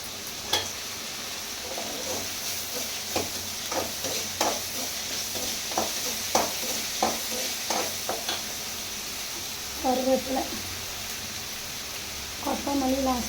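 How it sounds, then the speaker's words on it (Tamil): Ginger garlic paste and green chilies sautéed in a pan for a sardine curry, with a steady sizzle and repeated spoon-stirring scrapes throughout, and a short burst of voice twice near the end. "இஞ்சி பூண்டு பேஸ்ட்டை வந்து நல்லா வதக்கிட்டோம் பச்சை மிளகா"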